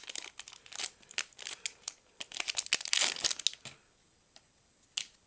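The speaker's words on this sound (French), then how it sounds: "Donc on fait attention à bien ouvrir les paquets." An Upper Deck hockey trading card pack from a 2022-2023 Ice Hockey hobby box being torn open, with quick bursts of crinkling foil wrapper and tearing that build to a dense crackle, then a few isolated crinkles as it settles.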